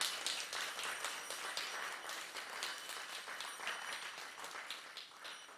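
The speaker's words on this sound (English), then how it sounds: "we'll just do a quick round of applause for her." Audience applause fills a temple hall: many hands clap in a dense, moderately loud round that stays steady for several seconds before easing slightly.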